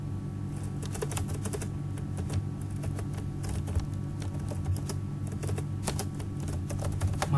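Computer keyboard typing a heading in an Excel spreadsheet, rapid close key taps over a steady low hum, continuous clicking with brief gaps, no speech.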